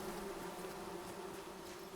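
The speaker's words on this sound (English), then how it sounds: "wait till the bees dissipate" Bees swarm with a steady, droning buzz in the video game Among Trees, an even hum that holds constant throughout without any speech.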